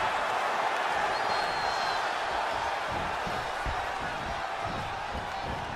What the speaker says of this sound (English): I think the last time I heard this crowd so fired up